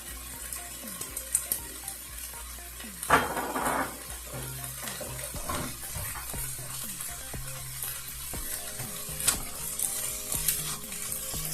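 Ground beef with onion, garlic and seasonings fries in a pan, a continuous close sizzle with intermittent scraping stirs and clatter from the spoon.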